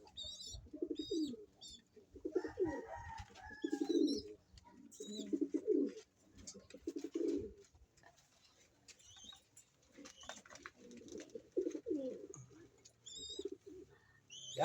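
Domestic fancier pigeons cooing close by, a series of low throaty coos in separate bursts about every second or two, with faint higher chirps and occasional rustling in a quiet setting.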